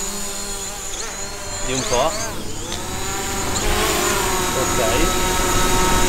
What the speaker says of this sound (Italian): E ora dobbiamo allontanare il drone